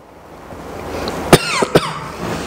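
A teacher coughs twice in quick succession, sharp and close, irritated by mask lint in the mouth, over a quiet room hiss with no speech.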